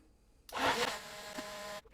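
BLENDi Pro+ portable blender crushing frozen strawberries, starting abruptly and whirring steadily for over a second before cutting off, loud and close with no talk.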